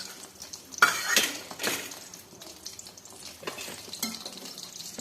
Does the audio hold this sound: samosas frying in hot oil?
yes